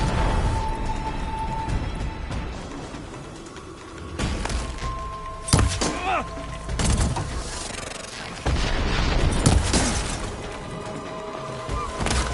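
Gunfire in a video game: bursts and booming shots with crashes and thuds, loud and dense, recurring through the stretch over a steady background roar, with some voice mixed in.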